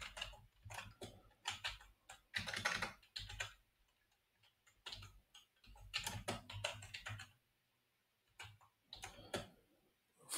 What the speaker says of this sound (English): I just type this.